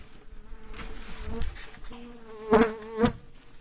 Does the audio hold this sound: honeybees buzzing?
yes